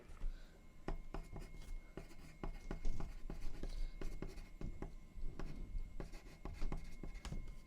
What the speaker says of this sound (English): What's the tapping I hear? Pencil.